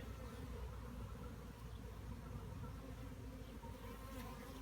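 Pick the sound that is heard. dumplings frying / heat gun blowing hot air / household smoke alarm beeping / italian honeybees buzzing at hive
italian honeybees buzzing at hive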